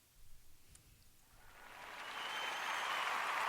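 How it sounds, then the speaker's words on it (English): People clap for the Kansas City Chiefs. Faint at first, the applause swells into a steady, dense wash of clapping that holds to the end, with no talking. "We applaud for the Kansas City Chiefs in this house."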